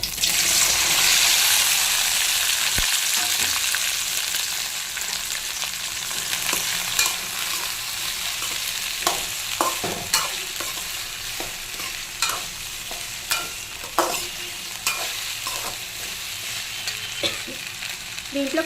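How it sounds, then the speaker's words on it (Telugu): Cut okra frying in hot oil, a steady sizzle that is loudest at first and then settles under occasional stirring and scraping clicks, with no one speaking. "అదే నూనెలో కోసి పెట్టుకున్న బెండకాయలు వేసేస్తాం"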